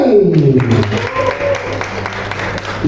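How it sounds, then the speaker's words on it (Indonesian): Audience applause at a film cast reveal event for the horror movie Jump Scare by Magma Entertainment, a dense wash of clapping that continues under a voice speaking through a sound system. "Tepuk tangan untuk Linda Kusali."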